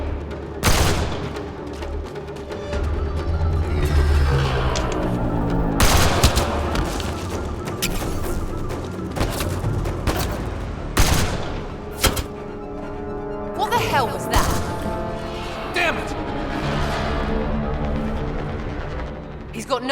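A firefight in Mass Effect Andromeda: loud bursts of rapid gunfire and sharp single shots with heavy thuds and booms, coming in dense volleys and scattered cracks over a continuous low rumble of combat.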